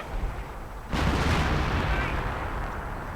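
Howitzer artillery fire in a real-time strategy video game: a single sharp boom about a second in, followed by a rolling, fading rumble against quieter game ambience.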